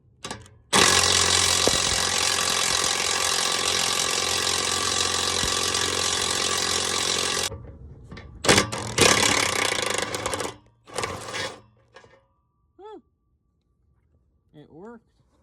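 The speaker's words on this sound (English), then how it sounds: "I just cut through the strap" A power tool cuts through an exhaust strap on a minivan, running as a loud, steady whine for several seconds, then a few shorter bursts follow. Brief speech is heard near the end.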